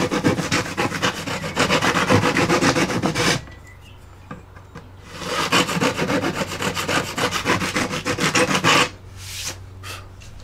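A file rasps back and forth on wood, enlarging the slot for the dihedral braces in a Hawker Tempest model aircraft. Two long stretches of close, rhythmic scraping are separated by a quiet pause, and a few short strokes follow.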